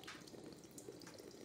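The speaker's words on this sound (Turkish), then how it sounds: "Ay sen de amma su akıttın ya, şırıl şırıl." A tap left running inside a large mansion, making a faint, steady stream of water that flows on without a break.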